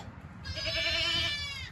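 A mother goat on a farm gives one loud, wavering bleat calling for her baby, close to the microphone over low background noise.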